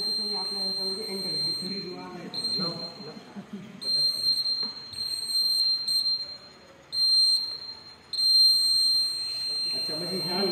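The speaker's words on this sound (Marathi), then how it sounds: "ह्या लेझर लाईटमध्ये जर एखादा पर्सन आला, एखादा व्यक्ती आला तर ते अलार्म वाजणार" Laser-beam security alarm built as a student electrician project sounds a high electronic beeping that comes in repeated bursts and pauses, while people talk nearby.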